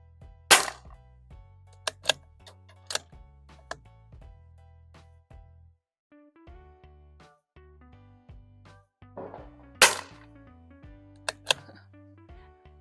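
.22LR rounds fired from a .22 Magnum gun: a handful of sharp, loud, isolated cracks spaced irregularly over a steady tonal background.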